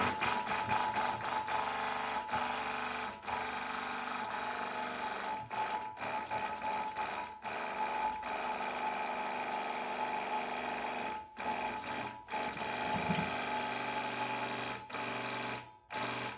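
A home cold oil press machine grinding and squeezing seeds to make raw pressed oil runs steadily and fairly loud, a continuous mechanical whir with a few brief dips.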